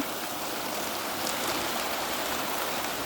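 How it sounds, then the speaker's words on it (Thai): Water flowing steadily past flakes of ice on a cold morning, a continuous close rushing hiss with no voices. "น้ำไหลค่ะ น้ำเป็นน้ำแข็ง"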